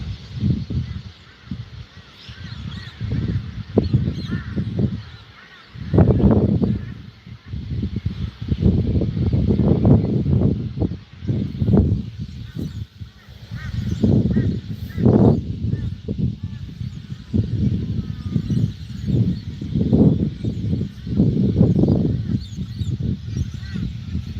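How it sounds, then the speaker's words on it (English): Birds calling at dawn outdoors, with honking goose-like calls repeating in loud irregular bursts over a steady breezy background. "And the birds are waking up."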